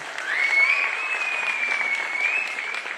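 Applause from an audience at a Tamil film release event, a steady wash of clapping sustained for about three seconds with a faint tonal whistle-like line running through it.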